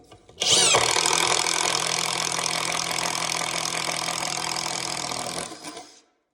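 A Klein Tools impact driver drives into a wooden board with one loud, sustained buzzing burst of about five seconds that starts sharply and tapers off near the end.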